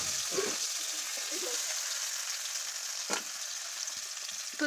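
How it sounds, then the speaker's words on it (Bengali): Paneer pieces fry in a pan with a close, continuous sizzle and faint bubbling. Occasional soft clinks sound over it, with no clear talk. "এই যে মোটামুটি পনিরগুলো ভাজা হচ্ছে একে একে"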